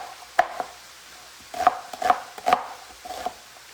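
A knife chops onion on a cutting board in a few close, crisp strikes, some spaced apart and some in quick pairs, with near silence between them.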